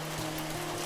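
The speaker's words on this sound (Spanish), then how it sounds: "Porque llueve." Rain falling steadily outdoors, an even hiss of drops with a faint low hum underneath, over one brief moment.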